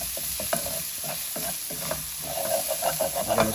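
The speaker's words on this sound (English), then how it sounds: "I'm going to saute this" Onion and garlic sauteing in a pan for a vegan beef stroganoff, a steady close sizzle with repeated scraping and stirring strokes running throughout.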